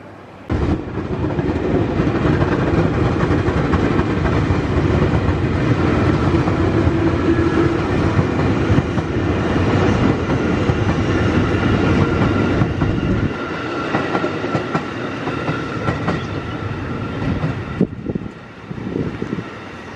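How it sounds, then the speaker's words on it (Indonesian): A KRL Commuter Line JR 205 electric train passing near Jatinegara station, a loud rumbling, clattering roll of wagons that lasts about thirteen seconds before dropping to a quieter fading rattle. "Saja melintas KRL Komuter Line JR 205 tujuan stasiun Jatinegara."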